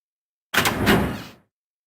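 A door opening in the video game Zero Escape: 999, a single sliding whoosh with a rattling scrape lasting under a second, close and fairly loud, then silence.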